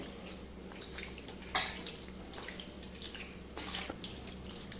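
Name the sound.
washing grapes in water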